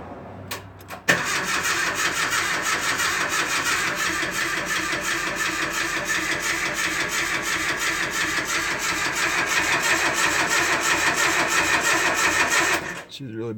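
An old truck engine cranks continuously at a steady rhythm for over ten seconds, loud and close, with no clear start-up before it stops.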